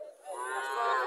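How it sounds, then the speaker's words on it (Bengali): A local dairy cow at a cattle market in Cumilla gives one long, drawn-out moo that swells in strength toward the end, close and clear with no talk over it. "এখানে আরেকটা দেশি গাভী।"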